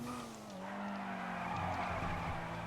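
Front-wheel-drive Dinka Postlude (Honda Prelude MK1) tyres skidding and squealing while cornering with understeer in GTA, over a steady engine drone, close and continuous with no talk.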